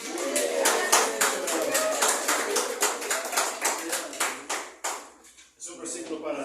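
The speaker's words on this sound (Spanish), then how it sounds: "Un aplauso para todos." A congregation at a sermon breaks into applause, loud dense rhythmic clapping that holds steady and then tapers and briefly drops before resuming.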